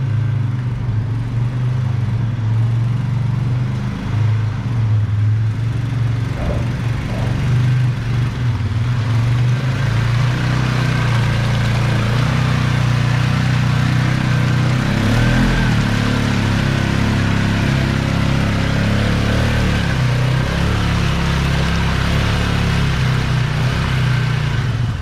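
Polaris Sportsman 450 and Honda Rancher 420 ATVs creeping through mud holes in four-wheel drive, a loud continuous engine drone with low rumble and slight revving throughout.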